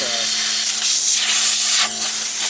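Compressed air blasting dust out of a desktop computer during a clean-out, a loud, steady close hiss lasting the whole moment with a brief dip near the end.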